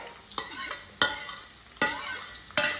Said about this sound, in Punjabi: ਹੁਣ ਇਹਨੂੰ ਵੀ ਆਪਾਂ ਮੀਡੀਅਮ ਫਲੇਮ ਤੇ ਭੁੰਨਾਂਗੇ